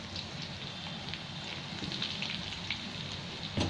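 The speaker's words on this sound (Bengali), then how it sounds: "এটা ভেজে নিচ্ছি ভালো করে।" Potato and pointed gourd frying in oil in a wok, a steady, dense crackling sizzle that holds evenly throughout at moderate level, with a brief louder clatter at the very end.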